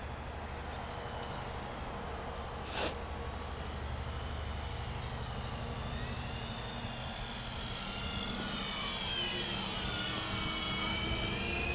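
Avios Kingtwin 1700 twin-engine RC plane flying a slow pass, its propeller drone steady and fairly loud, with the pitch sweeping as it passes and grows closer toward the end.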